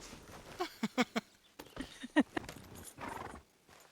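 Horse hooves clip-clop in a short uneven run of distinct knocks with a brief whinny, heard in a Western-themed setting while Dame Rosa rides.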